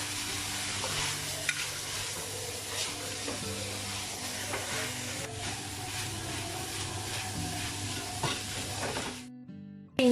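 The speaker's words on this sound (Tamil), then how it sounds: "இதை நல்லா ஒரு 3 நிமிஷம் நல்லா வதக்கி எடுத்துக்கோங்க." Carrot and cabbage sautéing in a pan for fried rice, a steady close sizzle with repeated scraping stirs and clinks throughout, ending abruptly.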